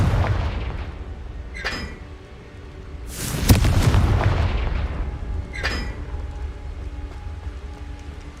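Confringo blasting spells from Hogwarts Legacy go off as a few sharp booms, a loud burst near the middle trailing into a long rumbling decay, with smaller cracks before and after over a steady low background rumble.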